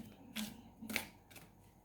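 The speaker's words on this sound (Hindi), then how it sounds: "अब इसके आगे भी मैं कुछ कार्ड निकालूंगी उनकी इंटेंशंस देखने के लिए" Tarot cards being shuffled and drawn for a reading, giving three soft papery riffling bursts spaced across a quiet moment, close and faint.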